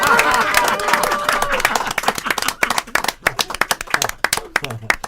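Audience applause at an Indonesian talk event about two film industry legends: dense clapping that starts loud and full, then thins into scattered individual claps over about five seconds, with some voices underneath.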